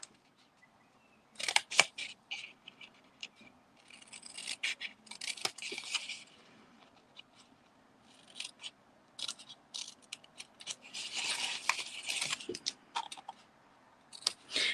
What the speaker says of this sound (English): I'm gonna cut all 4 snips. Sorry, all 4 lines with my snips, and then I'm going to cut these edges off.